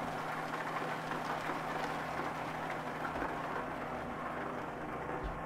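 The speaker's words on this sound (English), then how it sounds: "That rain's loud." Steady rain in a truck driving video game patters and hisses as a continuous wash, with a low rumble underneath, fairly quiet and uninterrupted.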